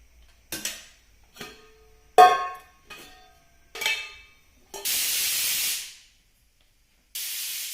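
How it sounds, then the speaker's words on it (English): Water is rinsed over a stainless steel Indian tiffin carrier, giving a few sharp metallic clinks and knocks followed by bursts of hissing spray from a tap, close and with no talk. "I haven't used it for a long time now, so giving it a good wash."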